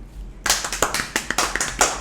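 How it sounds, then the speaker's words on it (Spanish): A small group claps to cheer a child, starting abruptly and continuing as quick, fairly close, uneven hand claps for a couple of seconds. "Muchos aplausos."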